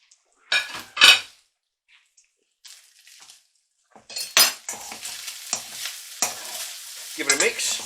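A whole red onion dropped into a hot stir-fry pan with chicken and vegetables: sharp clatters and scraping of a utensil against the pan, then bursts of sizzling and stirring, close and fairly loud.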